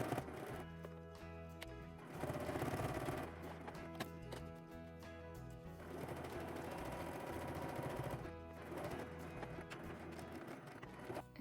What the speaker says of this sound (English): Now you need to sew right here to here.